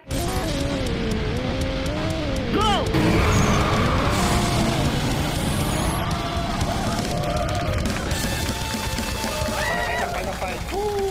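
A Nissan GT-R R35 racing on the road, its engine revving loudly and steadily for the whole stretch with rising and falling pitch and possible tire noise, while a voice calls out briefly.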